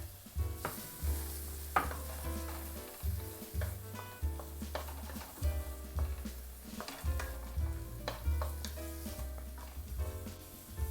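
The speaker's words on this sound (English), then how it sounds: "I'm just going to add my veggies to this butter." Vegetables sizzle in melted butter in a pan, a steady crackling fry with stirring scrapes and occasional louder pops and clatters, close and continuous with no voices.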